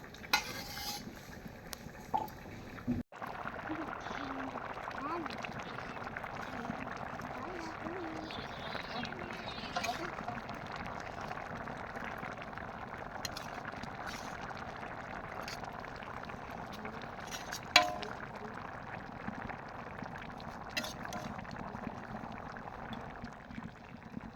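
Meat goes into a pot of boiled rice and lentils, followed by a long bubbling, sizzling simmer with intermittent stirring and a few knocks against the pot, while a voice speaks at times over the cooking.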